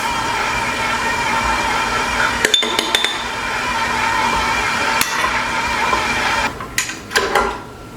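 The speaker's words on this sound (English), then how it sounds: "start mixing that a little bit until that powdered sugar is kind of mixed in" Powdered sugar and milk frosting for a lemon velvet cake is stirred in a bowl, with a steady rough scraping and a few scattered clinks of utensil against the bowl, the strongest clinks near the end.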